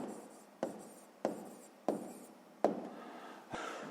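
A pen writes down a maths answer in short bursts of scratchy strokes, each starting with a tap on the paper, about five in four seconds, close and quiet, with no voices.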